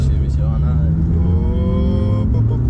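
A car at a Cars & Coffee meet in Geneva accelerates hard, its engine roaring steadily and rising in pitch at close range, with voices heard in the background.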